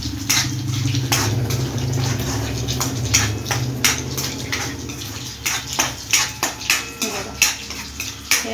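Chutney being stirred into soybean kofta frying in oil in a pan, with a spoon scraping and clinking against the metal in repeated strokes. The strokes get sharper toward the end over a steady low sizzle and hum.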